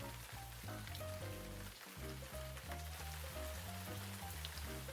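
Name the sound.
shallots sauteing in a pan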